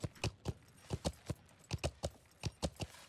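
Horse hooves clip-clopping on hard ground in a video game, a steady run of crisp paired hoofbeats at a walking pace, close and distinct with nothing else over them.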